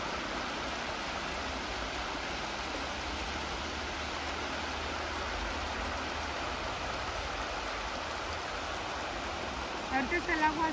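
Muddy river water running high after rain, a faint, steady wash of rushing noise that continues evenly throughout, with a brief voice near the end.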